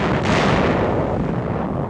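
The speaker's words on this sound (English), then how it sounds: "Jap 5-inch coastal guns fire at our fleet units offshore." Japanese 5-inch coastal guns fire at fleet ships offshore during a 1945 beach landing, a loud, booming blast that rolls on as a heavy, sustained rumble.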